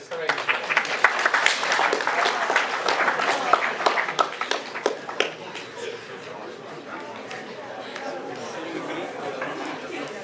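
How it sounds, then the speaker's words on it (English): An audience at a school careers talk claps for a volunteer, a burst of loud applause that fades into murmuring chatter and background talk. "Can we give him a round of applause for being so courageous?"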